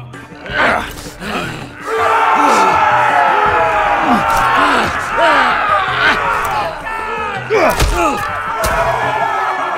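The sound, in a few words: arena crowd in Game of Thrones video game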